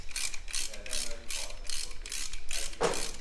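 Ratchet wrench turning out spark plugs on a 1966 Ford Cortina engine, a close rapid clicking in about six quick bursts of back-and-forth strokes, followed by a sharp metallic clink.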